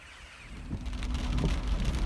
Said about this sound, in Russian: Начался дождь, и я уже уезжаю отсюда.